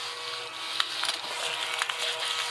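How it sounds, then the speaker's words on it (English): A small brush vacuum cleaner runs steadily while cleaning off a workbench between sanding jobs, giving a close, constant whirring hiss with a few faint bumps and scrapes, no voices. "It's a little vacuum with a brush in it that I clean my table up with in between sanding and whatnot."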